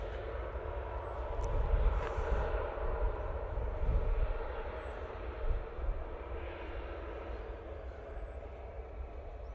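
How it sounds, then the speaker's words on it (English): A Boeing 737 MAX inbound from Cologne Bonn Airport to Manchester Airport gives a faint, distant jet roar that swells and fades gently against the open air. "Next in will be the 737, I think it's a MAX, coming from Cologne Bonn Airport."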